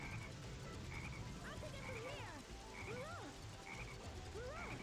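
A frog in the Sonic Heroes video game croaks repeatedly in bouncy, warbling calls, clear and continuous, layered over busy game sound.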